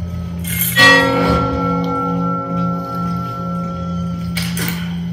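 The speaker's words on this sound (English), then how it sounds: "Oh, there was another gong." A gong in the Resident Evil 4 Remake video game rings out once with a loud metallic strike, its long shimmering tones sustaining and slowly fading, followed by a softer second ring near the end.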